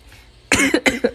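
Quiet room, then a sharp burst of several harsh coughs in quick succession, close to the listener.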